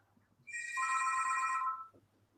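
A telephone bell rings in one sustained burst lasting just over a second, clear and close against a quiet room with faint low hum before and after.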